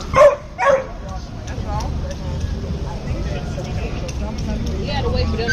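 Young dogs give two sharp, loud barks close by at the start, then fall quiet. After that come low mutters, faint yips and distant background noise, and a voice says a couple of words.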